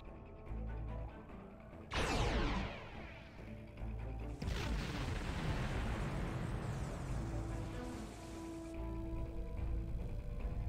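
A nanite torpedo fired at the planet killer in Star Trek Online sets off a sharp, heavy blast, and a second long, roaring burst follows that rumbles on and slowly fades, with no voices.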